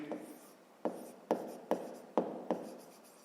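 Pen or pencil writing by hand on paper during a fifth-grade maths exercise: a run of sharp scratchy strokes at a steady uneven rhythm, close and fairly quiet, with no talk.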